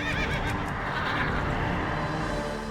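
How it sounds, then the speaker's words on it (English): A horse whinnies in the World of Warcraft game, a loud neigh over steady in-game ambience with faint hoof clip-clop. "whinnying noise, frightening any Northridge spiders"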